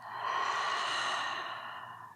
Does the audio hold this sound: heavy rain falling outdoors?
no